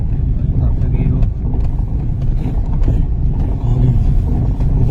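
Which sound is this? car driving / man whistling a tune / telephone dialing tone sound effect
car driving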